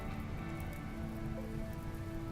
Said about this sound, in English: It's raining anyways.